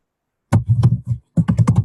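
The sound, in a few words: typing on a computer keyboard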